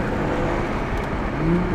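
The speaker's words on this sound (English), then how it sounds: "This exhaust sounds good. It's got a good tone to it." A BMW F30 340i with an AFE full exhaust system rumbles close and loud in a short, steady burst of low engine tone.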